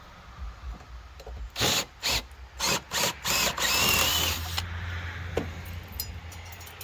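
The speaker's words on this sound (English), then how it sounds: "We're going to drill this out." A power drill whirs while drilling a hole for sleeve anchors during a deck and stair build, in about five quick pulses, then a longer steady run before tapering into quiet background hum.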